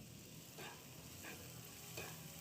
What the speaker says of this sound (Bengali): ক্যাপসিকাম দিয়ে ভালো করে নেড়েচেড়ে ভেজে নিচ্ছি